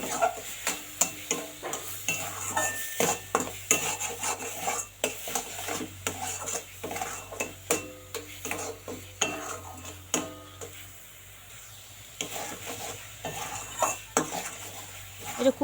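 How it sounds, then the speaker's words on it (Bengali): A spoon steadily stirs a mixture of coconut, sugar and semolina in a pan for narkeler sandesh, making a rhythmic run of scraping strokes and metal clinks over a faint sizzle, close and unbroken. "আরও কিন্তু অনবরত এটা নাড়াচাড়া করা লাগবে"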